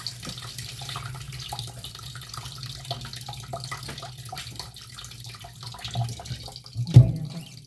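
Water runs steadily from a kitchen tap into a sink at low pressure, a soft continuous trickle with a few clinks and splashes near the end.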